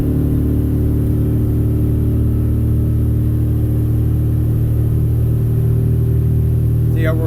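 A 2020 Defiance 250 San Juan boat picks up speed on plane at about 20 under outboard power. Its engine drone is loud, close and steady, with a constant low roar and a brief higher whine near the end.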